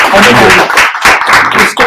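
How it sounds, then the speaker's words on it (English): Audience applause for a pitch presenter at an elevator pitch event, short loud bursts of clapping close by, mixed with speech over the top. "Round of applause for him."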